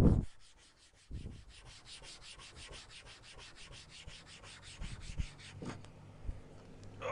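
A green Scotch-Brite pad scrubs a plastic truck part cleaned with Clean Strip Green, giving a steady close rubbing and scouring texture with a few louder knocks and handling bumps, and no talk.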